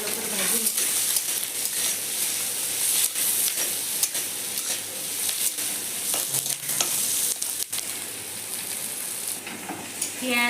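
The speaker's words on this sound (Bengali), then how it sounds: "आदा रसुन काजू কাঁচা লঙ্কা সব ভালো করে একটু ভাজিয়ে নিচ্ছি" Cashews, ginger, garlic and green chillies sizzle loudly in hot oil in a pan, a constant bright hiss broken by scraping stirs and occasional clicks of the utensil, close and steady throughout.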